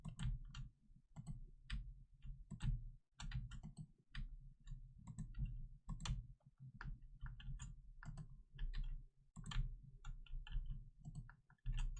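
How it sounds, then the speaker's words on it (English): A computer keyboard clatters close by during Farming Simulator 19 play, giving quick, irregular clicks in uneven bursts over a steady low game hum, with no talking. "You guys can probably hear the keyboard really clicking along."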